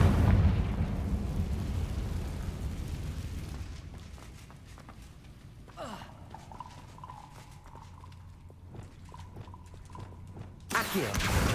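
A Confringo blasting spell in Hogwarts Legacy sets off a loud explosive roar that fades into rumble and scattered debris clatter, then a rising magical tone and a final blast.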